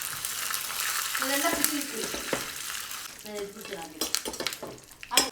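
A separately fried tempering is tipped into a hot festive dish, setting off a loud, crackling sizzle with stirring and clinks of the pan, over faint background voices.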